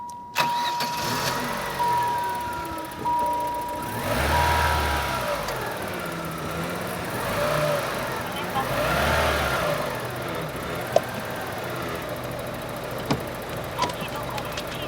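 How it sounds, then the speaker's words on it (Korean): A Daewoo Le Mans engine running at idle, a steady mid-pitched hum with a couple of gentle swells in revs, heard from inside the car with a person talking over it. "엔진 소리 한번 들어보도록 하겠습니다"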